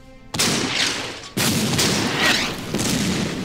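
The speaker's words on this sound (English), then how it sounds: "Fire some artillery here." Two deep, booming artillery blasts in the Order of Battle video game, each a loud, sudden thump followed by a rumbling tail, about a second apart.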